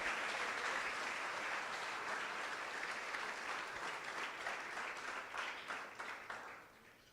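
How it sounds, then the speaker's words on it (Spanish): Church congregation applauds during a Spanish-language sermon, producing a sustained, fairly faint wash of clapping that holds steady and then thins into scattered claps as it tapers off. "Dale un aplauso a Él."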